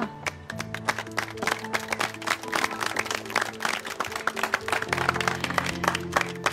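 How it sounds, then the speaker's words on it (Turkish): Studio audience applause in a Turkish TV series finale, a scattered crowd clapping with sharp individual claps over a low sustained musical tone that shifts partway through. "O zaman alkışlar Aysel'e."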